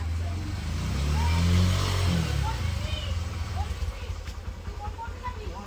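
A motorcycle carrying two riders on a road trip, with a steady engine drone and road rumble throughout and a slight swell in the middle, heard close up from the bike.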